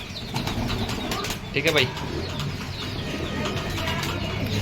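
Pigeons flutter and coo nearby, with a brief burst of wing flapping amid steady background noise while someone speaks briefly.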